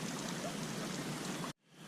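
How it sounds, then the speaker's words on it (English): Water gushes steadily into a CNOC Vecto water bag as it is refilled outdoors, a close, loud rushing pour lasting about a second and a half before cutting off abruptly. "So let me fill the bag back up with water"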